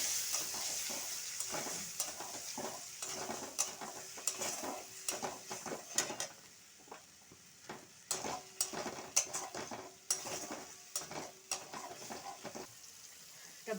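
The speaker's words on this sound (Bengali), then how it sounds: "এটা আমি দিয়ে দিচ্ছি, দিয়ে ভেজে নিচ্ছি মশলাটা।" A ground paste of cashew, melon seeds, poppy seeds and green chili frying in oil, soft sizzle broken by repeated spatula scrapes and taps against the pan, close but quiet, no voices.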